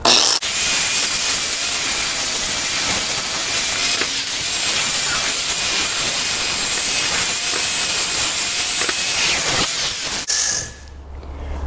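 A hand grinder works steadily against metal on a 1958 Ford Fairlane build, a loud continuous high whine and hiss for about ten seconds before cutting off abruptly.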